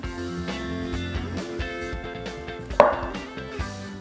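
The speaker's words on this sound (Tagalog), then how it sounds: "Hinihiwa ko lang sa gitna yan." Knife cutting saba bananas through the middle, a few soft knocks on a board with one sharper chop near the end, close and alone.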